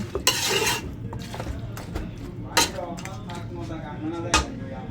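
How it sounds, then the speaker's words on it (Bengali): Chicken being stirred with spices and oil in a pot, giving scraping clinks and sharp utensil knocks against the metal at an uneven rhythm, close by, with a voice speaking faintly underneath. "আমি এখনও মিক্স করতেছি"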